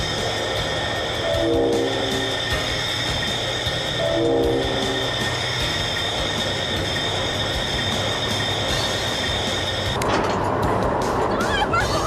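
A train rumbles steadily along the tracks with a sustained mechanical hum, a horn-like tone sounding twice, and a louder rattling burst near the end.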